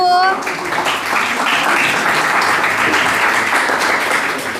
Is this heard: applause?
yes